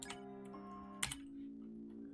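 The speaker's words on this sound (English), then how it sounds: "you're going to hear a lot of keyboard ASMR" Computer keyboard keys clicking during a Deltarune speedrun, a few light ticks followed by a sharper burst of clacks around the middle, quiet and close, with no talking.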